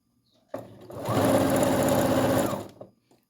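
Sewing machine backstitching at the edge of fabric for a baby diaper bag hem, one close, loud burst of rapid stitching lasting about two seconds, starting abruptly and tapering off.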